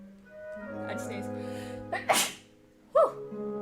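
A single sharp sneeze bursts out, followed a moment later by a quick vocal exhale, over a soft electronic music bed.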